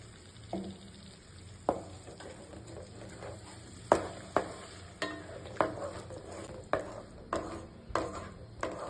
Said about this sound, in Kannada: ಈ ಮಸಾಲಾನ ಚೆನ್ನಾಗಿ ಫ್ರೈ ಮಾಡ್ಕೋಬೇಕು